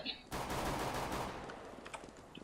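Sustained burst of automatic gunfire in the Counter-Strike: Global Offensive video game, dense and loud for about a second, then thinning into scattered shots and clicks.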